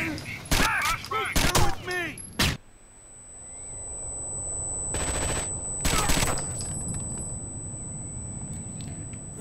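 Gunfire in the Xbox 360 game Tom Clancy's Rainbow Six Vegas 2: loud bursts of automatic fire and shots under shouted squad voices, then a sustained crackling barrage with a steady high alarm-like tone.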